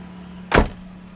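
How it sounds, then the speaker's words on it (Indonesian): A single solid thunk as the driver's door of a Nissan March with a 1.5-litre four-cylinder engine is shut, a short, fairly close impact against a quiet background. "Sekarang gua akan coba tutup pintu supir."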